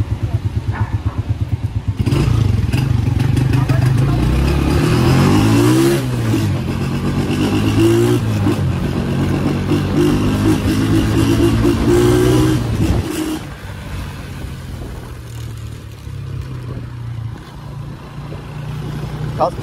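An Arora CG 150 motorcycle engine drones steadily while riding, rising in pitch as it revs through the gears, loud and close, then settling to a lower steady hum.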